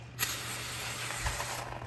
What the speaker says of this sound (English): we're gonna spray this with some brake cleaner